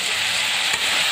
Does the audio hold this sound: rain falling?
no